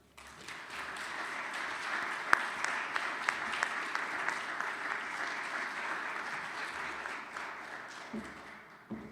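Sustained applause from a chapel audience welcoming a guest speaker, steady and fairly loud across the room with a few sharper claps standing out, fading slightly at the end.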